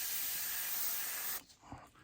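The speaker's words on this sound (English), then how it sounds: "the gun that I'm using is a Creos PS771 with a .18 needle in it" A Creos PS771 airbrush with a .18 needle sprays paint onto a fishing craw lure, giving a steady close hiss for about a second and a half before it cuts off, followed by faint handling sounds.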